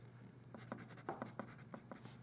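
Pen or pencil marks go down on paper as a math problem is written out, giving a short run of faint scratchy strokes close by, very quiet over a low hum.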